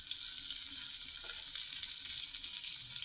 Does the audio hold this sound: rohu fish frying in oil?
yes